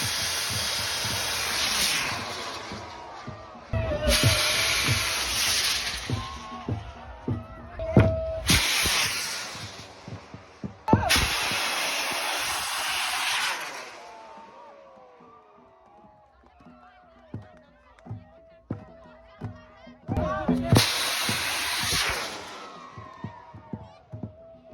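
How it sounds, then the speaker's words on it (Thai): Bamboo rockets launching at a Bun Bang Fai rocket festival in Thailand: repeated loud rushing hisses burst out in several separate blasts, each roaring for a second or two, separated by quieter stretches with crowd noise and shouting voices. "มาจุดบั้งไฟมาลุ้นนำกันว่าบั้งไฟมันสิขึ้นสูงได้ส่"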